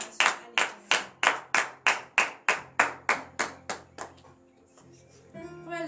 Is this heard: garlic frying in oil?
no